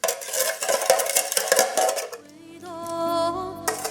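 A spoon scrapes and clinks in a bowl while the sushi rice seasoning mixture is stirred, with quick irregular taps and scrapes before a steady tone takes over near the end.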